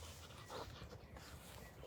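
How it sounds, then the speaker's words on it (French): A dog pants quickly and rhythmically close by, quick, faint breaths in steady succession over a low background hum. "Le chien s'éclate."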